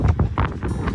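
Strong gust on a sailboat out on Chesapeake Bay, with wind buffeting the microphone in heavy low rumbling bursts that rise and fall over about a second.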